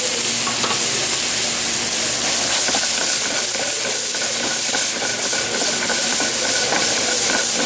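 Capers dropped into a hot pan with seeded olives, frying as the seasoned oil is infused, give a steady, dense sizzle and hiss that carries throughout, close and loud, with light stirring and no talk.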